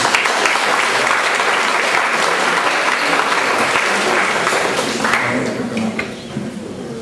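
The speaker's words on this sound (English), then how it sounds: "If you could have a round of applause" Loud, continuous audience applause at the official opening ceremony of Tibetfest in Wollongong, 2006, dense clapping that thins slightly at the end.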